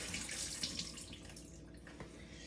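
Water running and splashing as soaked broccoli seeds are drained and rinsed for sprouting, a steady close wash of trickling water with faint drips, fairly quiet throughout.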